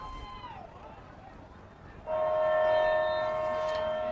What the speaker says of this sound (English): So the timely sound of a freight train